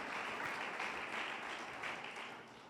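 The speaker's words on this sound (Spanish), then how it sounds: "que le dé un fuerte aplauso a las personas invitadas esta tarde" Church congregation applauding invited guests, a steady wash of many hands clapping at moderate distance, continuous throughout and tapering slightly at the end.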